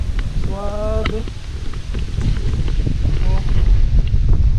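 Wind gusts across an outdoor view deck above a river, a constant low rumbling roar buffeting the microphone and growing louder toward the end, with a person speaking briefly over it.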